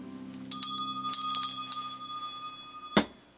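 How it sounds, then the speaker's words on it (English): A bell rings clearly several times in quick succession. Its bright tones linger and slowly fade, and a single dull knock follows near the end. "I forgot to ring the bell"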